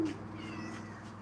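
A cat on a porch gives one short, fairly loud meow at the start, followed by a quieter drawn-out cry.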